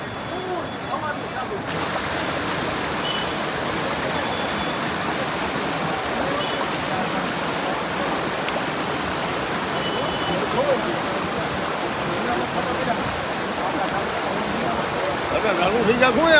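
Heavy rain and floodwater rush through the streets of Botad, a loud, continuous wash of flowing water that holds steady throughout.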